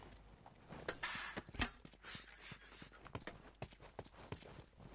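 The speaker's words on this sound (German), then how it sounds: "Das macht ja ein lustiges Geräusch, wenn man den nachladet," A grenade launcher reloads in The Last of Us, a quiet run of mechanical clicks, knocks and breathy puffs in an uneven rhythm.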